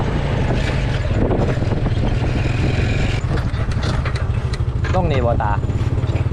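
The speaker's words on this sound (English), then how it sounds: "Just got into the bike and just making our way to the habitat now." A motorbike ride through rural Thailand: a steady, close engine drone with wind buffeting runs throughout, while people speak over it.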